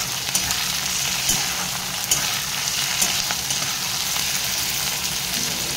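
Chopped tomato with ginger and spice paste fries in a pan, giving a constant close sizzle broken by occasional stirring scrapes and taps, with no talking.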